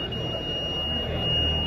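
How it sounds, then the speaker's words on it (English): A Milwaukee power supply beeps a steady high-pitched electronic tone continuously over a low hum, without pauses, signalling a removed battery. "it beeps to tell you that the battery's been removed."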